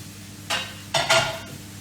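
Brief bursts of sizzling from bean sprouts tossed in a very hot wok, with short scraping stir sounds, three quick surges within two seconds.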